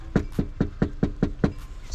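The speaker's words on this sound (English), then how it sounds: "Knock on the door." Knocking on a door: a quick, evenly spaced series of about eight firm knuckle raps, close and clear, with nothing else heard.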